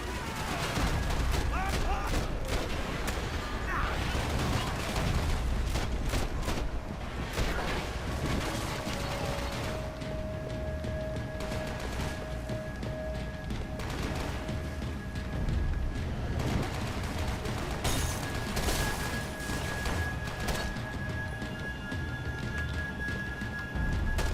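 Gunfire in the video game Max Payne 3, with sustained volleys and rapid shots crackling loudly throughout, mixed with occasional booms, while someone talks over the fighting.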